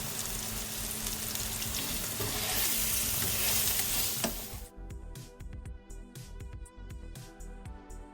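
Spice-coated paneer fries in oil in a pan, giving a loud, dense sizzle that fades about halfway through to softer crackles and scattered stirring scrapes, with no talking.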